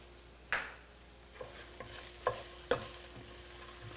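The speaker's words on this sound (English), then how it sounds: "you just want to stir the garlic around, the onion around" Onions and garlic stirred in a warm pan, a few distinct scraping clacks of a utensil spaced across the moment over a faint background, no talking.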